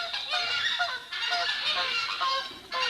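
Flamingos being handled during a zoo's annual move, honking and squawking in a dense, nasal overlapping chorus, close and loud, with a brief dip near the middle.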